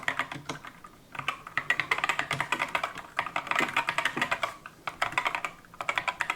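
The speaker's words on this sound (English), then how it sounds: "let me just do a quick type test" Close-up typing on an Epomaker Skyloong SK61 keyboard with Gateron Red switches and BBT keycaps, producing rapid bursts of soft, even keystrokes that come in flurries with brief pauses between them.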